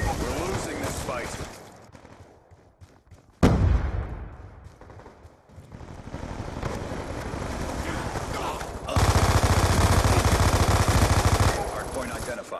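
Gunfire in Black Ops 2 multiplayer: bursts of automatic fire and loud shots, with a sharp blast near the middle and a long, dense burst near the end.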